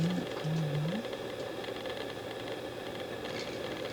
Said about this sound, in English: Don't break my printer.